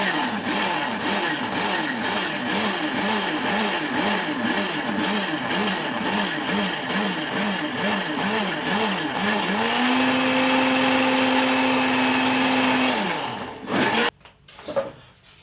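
A blender churns cream into butter, its motor whirring loud and steady with a rhythmic pulsing that smooths into a higher, even hum as the cream separates, then cuts off abruptly near the end.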